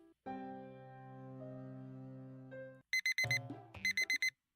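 Alarm clock in the visual novel game Doki Doki Blue Skies, a long steady electronic tone followed by a rapid run of short, sharp, bright beeps, clear and alone.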